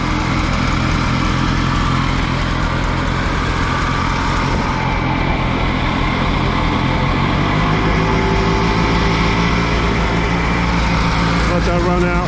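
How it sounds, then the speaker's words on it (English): An Allis Chalmers G tractor engine runs steadily with its fuel shut off, burning the last gas from the carburetor in a continuous loud drone that holds for the whole stretch with no sputter or cutout yet. "I'm going to run it out of the gas out of the carburetor"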